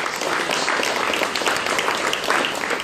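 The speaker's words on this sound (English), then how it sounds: "if you give them a round of applause" A gallery audience at an exhibition opening applauds volunteers: a dense, even wash of many hands clapping, steady and moderately loud for a few seconds.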